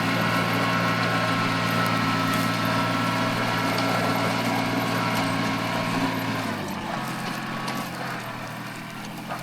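A Mitsubishi MT200 Japanese mini tractor engine running steadily after a major engine rebuild, a close, even mechanical drone that drops in pitch and eases off near the end.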